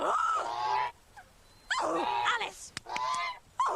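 A woman imitates a goose call with her voice, giving two long, loud honking bursts and a shorter third one, separated by brief pauses and clicks.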